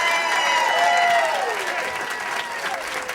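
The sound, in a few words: audience applause for comedian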